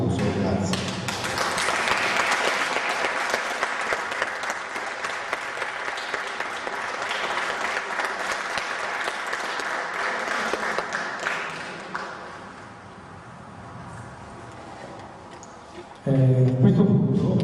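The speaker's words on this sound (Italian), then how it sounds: "Invito ad alzarci in piedi e per tributare e dedicare a lui un applauso." A seated audience at a 2012 Italian cultural gathering rises and applauds in tribute, producing dense, sustained clapping for about twelve seconds that then thins and fades before a voice and room noise return at the end.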